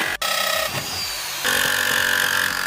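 Fridge foam insulation being cut with a power tool for a speaker build: a sharp click, then a grinding, rasping cut that steadies into a louder, continuous buzzing whine near the end.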